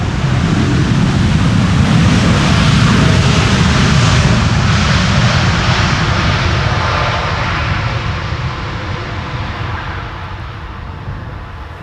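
A Boeing 777 landing at Amsterdam Schiphol gives a loud, close jet roar as thrust reversers rumble at full strength, then the sound gradually fades as the aircraft slows down the runway. No voices.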